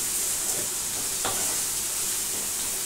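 Pumpkin halwa gets stirred in a hot pan, a soft steady sizzle with faint scraping strokes of the spoon close by.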